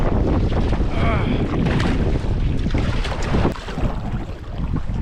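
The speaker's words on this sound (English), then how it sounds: "the wind is coming right up the lake, opposite direction of where I want to go" Strong headwind blowing straight up a narrow lake on a backcountry canoe trip, loud continuous roaring gusts buffeting the microphone with water lapping beneath, no voices.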